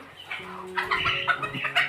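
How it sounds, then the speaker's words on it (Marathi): Village chickens and roosters cluck nearby in short, repeated bursts, a few close birds giving irregular throaty calls against a quiet background. "इकडे मोठे हे कोंबडे वगैरे आहेत ते"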